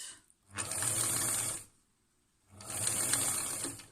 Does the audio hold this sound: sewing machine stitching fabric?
yes